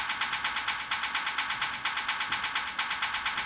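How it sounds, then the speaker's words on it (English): A rapid, gritty hi-hat pattern ticks evenly in fast sixteenth-note pulses, crunchy and distorted from bit crush, reverb and Fruity Blood overdrive, with a bright, noisy wash and no voices. "Next we have this hi-hat with bit crush, reverb, and a Fruity Blood overdrive that is automated"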